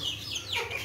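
Chicks kept in a rabbit hutch give a brief, close cheep or cluck, a single soft call against faint farmyard background.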